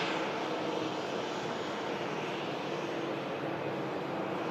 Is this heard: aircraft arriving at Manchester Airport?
yes